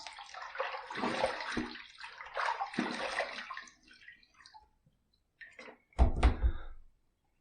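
Running water splashes and gurgles in a bathroom sink as a face is rinsed after a razor shave, in bursts with short pauses, ending in a louder close splash.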